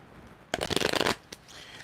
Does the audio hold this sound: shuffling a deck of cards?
yes